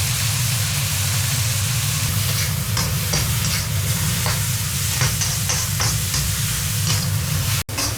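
Shrimp being stir-fried sizzles loudly in a home kitchen pan, a constant frying hiss broken by repeated scraping stirs, with a brief dropout near the end.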